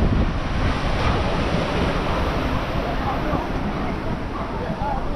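Steady roar of waves and surf at Abricó beach in Grumari, Rio de Janeiro, loud and continuous with heavy wind buffeting the microphone throughout.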